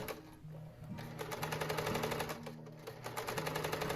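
A sewing machine top-stitches a gathered ruffle onto a skirt, its needle running in a fast steady rattle with short pauses and restarts, close and alone.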